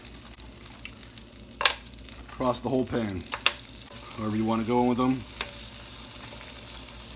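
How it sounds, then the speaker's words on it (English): Ravioli sizzle and fry steadily in bacon grease in a pan while a person talks over it, with a few sharp clinks of a utensil. "we're actually frying these ravioli to cook them instead of boiling them first"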